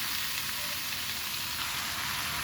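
Chopped bottle gourd hitting hot oil in a pan for a lau ghonto, giving a steady, close, even sizzle and hiss that holds through without any pause.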